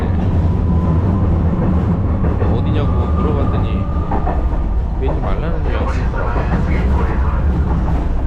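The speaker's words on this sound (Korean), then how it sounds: "타고 있으니까 옛날 기차 탄 느낌이야 소리가 칙칙하고 칙칙하고 이런 거 같아요" An old tram-like train on a small-town line in Kochi, Japan rattles and rumbles steadily from inside the carriage, a continuous loud clatter with squeaks, while a person talks over it.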